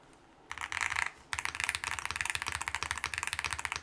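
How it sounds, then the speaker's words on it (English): Close typing on an ND104 mechanical keyboard: a quick burst of clacky keystrokes, a short pause, then a steady run of rapid, crisp key presses. "On the main keyboard, though, they sound good."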